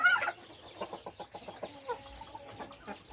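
Five-month-old hens clucking in a series of short, close, rhythmic clucks, with a brief louder squawk at the start and faint background noise throughout.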